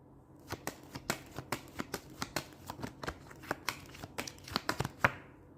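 Deck of tarot cards being shuffled, a quick run of crisp, papery riffles and slaps, about twenty close taps in a steady rhythm, quiet and alone.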